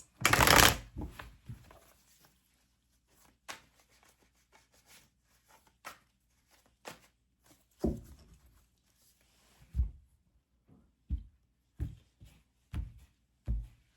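Tarot cards being shuffled with a loud riffle at the start, then softer card handling and a run of separate taps and slaps as cards are drawn and laid down. Nearby and with no talking.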